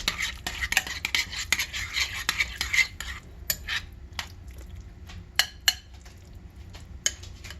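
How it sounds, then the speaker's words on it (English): Egg being stirred into a broccoli casserole: repeated close scrapes and clinks of a utensil against the dish in an uneven rhythm, with soft wet squishing between strokes and no talking. "Keep stirring around so I can make sure the egg gets in there."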